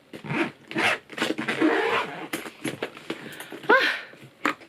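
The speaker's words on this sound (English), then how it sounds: "I'm going to use this and then just zip it all up." A zipper runs around a packed carry-on suitcase being closed, giving several quick rasping zip strokes in bursts, close and fairly loud, without speech.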